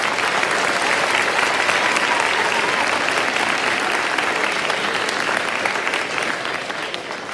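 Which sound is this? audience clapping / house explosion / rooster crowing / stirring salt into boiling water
audience clapping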